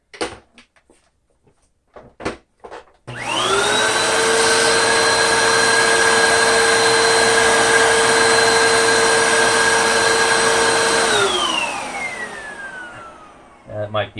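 A Dyson DC14 or Hoover Windtunnel 3 upright vacuum cleaner works over a thick doormat, switching on with a rising whine into a loud steady drone that winds down near the end, with a few clunks before and after.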